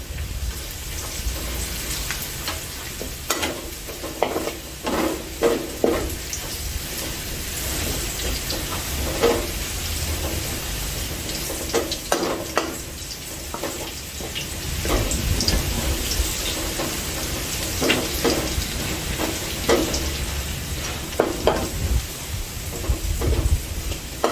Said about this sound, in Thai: ใช้กระเทียมเจียวเอ่อกระเทียมไทยนะคะมันจะหอมกัน